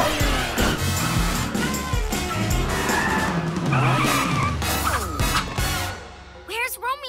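The PJ Masks cartoon cat car races off with loud tire squeals and skidding over a busy, layered soundtrack, ending with a few sharp whooshing sweeps.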